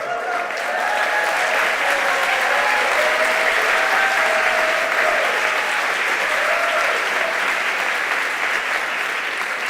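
Loud, sustained applause from a graduation audience at a 2021 mid-year completion celebration, a dense wash of many hands clapping continuously for nearly ten seconds.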